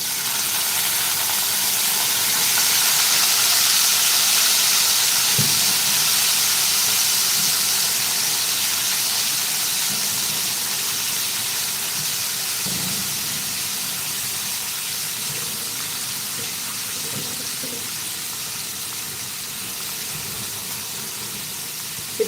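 Washed vegetables sautéing in hot oil for veg biryani, a loud continuous hiss and sizzle with steam, steady throughout with a few faint knocks of stirring, no voices.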